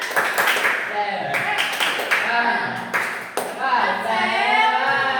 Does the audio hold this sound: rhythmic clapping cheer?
yes